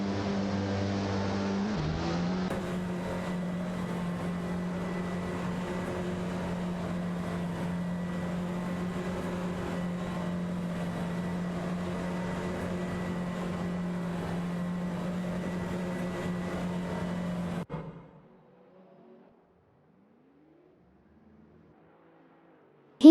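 AI-driven race cars in a close contest on track give a steady, droning engine tone that holds evenly for about seventeen seconds, then cuts off abruptly into near silence.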